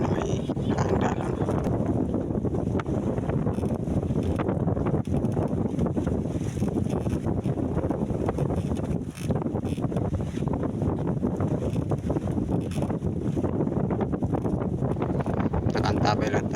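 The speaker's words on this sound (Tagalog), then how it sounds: "nakakaramdam tayo ng hanging amihan" Strong northeast monsoon wind buffets the microphone at sea aboard a boat, a loud continuous roar and rumble with gusting surges throughout.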